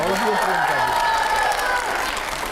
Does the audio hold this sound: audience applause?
yes